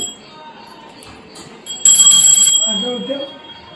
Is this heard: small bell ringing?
yes